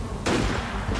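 Gunfire in Assassin's Creed Unity, starting as a sudden loud burst of shots that keeps going in a dense rattle, with a brief dip near the end before more firing, and no voices.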